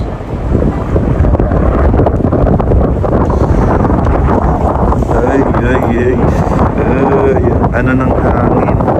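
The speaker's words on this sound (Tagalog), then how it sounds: "Ano ng hangin." Strong wind gusts roar and buffet the microphone continuously at Tsaghkadzor, Armenia, a snowy mountain area, with a voice talking faintly underneath.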